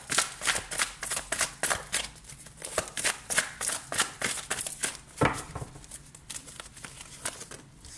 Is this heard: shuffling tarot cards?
yes